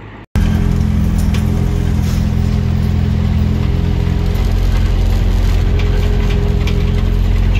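A 1961 International Scout 80 engine runs steadily in gear in four-low, a loud, close, low rumbling drone with constant harmonic throb throughout, starting abruptly after a brief quieter moment, with no talking.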